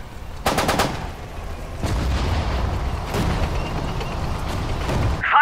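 Bursts of rapid machine gun fire in the video game Sudden Strike 4, a quick rattling volley followed by scattered shots over a rumbling battle background.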